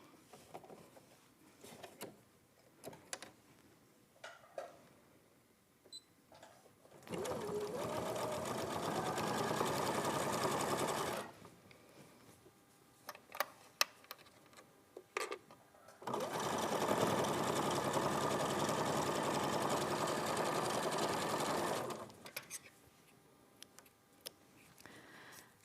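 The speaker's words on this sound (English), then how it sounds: "now we're going to sew a 1/4 inch seam." Sewing machine stitching a quarter inch seam through fabric squares, two long steady whirring runs of several seconds each, separated by quiet handling noises and small clicks.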